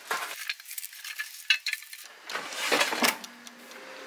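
Paprika and garlic fry together with potatoes for a candied potato dish, a soft sizzle broken by scraping stirs and light clinks of a utensil against the pan.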